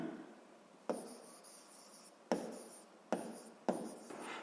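A pen writes notes on paper in a physics lesson for seventh grade, with four sharp scratchy strokes each trailing off into softer scribbling, close and quiet, with no voices.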